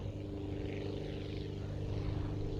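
A propeller airplane engine drones steadily in flight in Aviassembly, a constant low hum with buzzing harmonics, unbroken and fairly quiet.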